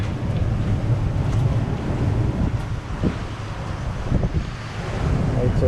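Strong wind of around 30 knots roars through a solo sailboat's rigging at sea, a constant rushing gust with brief creaks and knocks, close and loud throughout.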